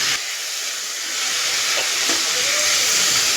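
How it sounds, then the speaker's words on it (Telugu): Tomatoes go into onions frying in a pan for a black-eyed pea (lobia) curry, setting off a loud, close, steady sizzle with a hissing steam texture that rises slightly as they hit the oil. "ఆనియన్స్ వేగుతూ ఉన్నప్పుడు మనం ఇప్పుడు ఇందులోకి టమాటాస్ వేసుకుందాం"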